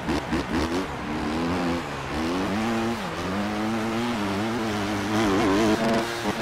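A dirt bike in the MX Bikes motocross game revs and holds a steady high engine whine, its pitch rising and dipping as the throttle shifts, loud and continuous with no talk.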